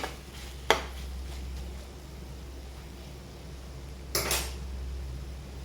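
A metal utensil scrapes and clinks twice against a pan while cabbage potato curry is stirred. The clinks are brief and separated by quiet background hum.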